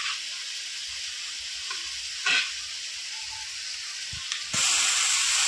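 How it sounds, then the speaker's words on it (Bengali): Ginger, onion and garlic paste fries in oil, giving a close, steady sizzle that jumps to a louder, sharper hiss near the end, with a few stirring knocks. "আদা, পেঁয়াজ, রসুনের পেস্টটা ভালো করে কষিয়ে নিয়েছি।"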